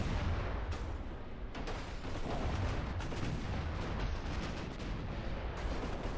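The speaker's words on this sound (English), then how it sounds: "The main guns are all firing on the destroyer now" Warship main guns fire in an Ultimate Admiral: Dreadnoughts naval battle. Booming salvos come repeatedly over a steady rumbling background with no talk.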